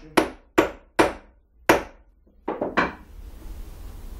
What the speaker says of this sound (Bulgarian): нека да пробвам и с чука да видим какво се случи